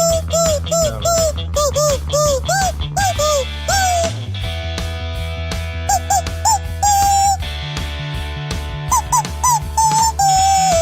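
A dog whimpers and yips in a rapid, rising and falling series of high cries, loud and close, with brief pauses between bursts and steady background noise beneath.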